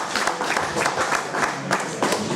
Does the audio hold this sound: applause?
yes